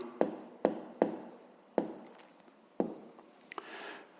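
A pen writes on paper in a short series of sharp taps and scratchy strokes, about five distinct strokes close up, while a maths exercise is worked through; no voices.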